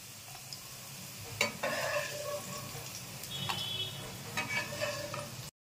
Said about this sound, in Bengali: আলুটা ভাজা হয়ে লাল লাল করে ভাজা হয়ে গেছে